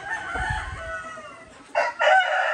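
A Maclean rooster crows close by in a chicken breeding pen with a long harmonic call, followed by two short, loud bursts of crowing near the end.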